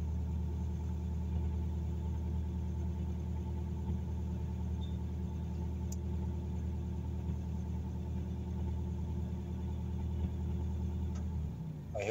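Hyundai Grand Starex van engine idling with a steady low rumble throughout, the idle settling lower near the end; close by, no talk.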